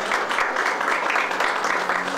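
Steady audience applause at a school awards ceremony for a best-schools contest, dense continuous clapping throughout the short stretch.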